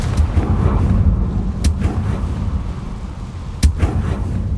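Confringo fire spell blasts in the video game Hogwarts Legacy: two sharp, loud impacts break through a dense rumbling ambient bed, one near the start and a stronger one later.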